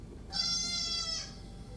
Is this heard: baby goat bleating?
yes